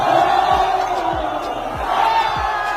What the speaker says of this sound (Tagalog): Kaya naman sigawan lahat ng mga tao.